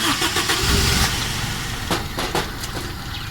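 A carbureted car engine with its idle solenoid bypassed runs loudly and steadily, a dense continuous rumble with a few sharp bursts near the end.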